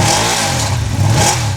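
Ducati Hypermotard 950 SP motorcycle engine revving up close, a loud steady roar that climbs twice in quick blips over less than two seconds, with no talk.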